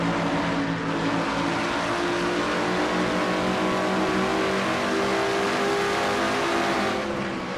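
Onboard a Ford stock car racing around the Rockingham track in an NNSCRA Castrol GTX Cup race, the engine roars loud and steady at high revs throughout with harmonic drone and no letup.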